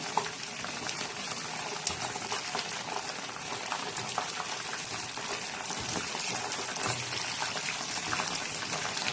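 Herbal hair oil with flowers simmering in a pot, giving a steady, dense bubbling and crackling boil that stays close and fairly loud throughout, with no voices.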